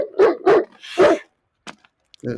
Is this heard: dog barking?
yes